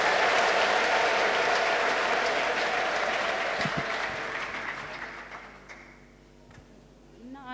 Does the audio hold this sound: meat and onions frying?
no